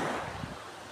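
Sea surf rolling onto a beach at Rana and Velipoja on the Albanian coast, a steady broad wash of waves mixed with wind noise, fairly loud and continuous with no speech.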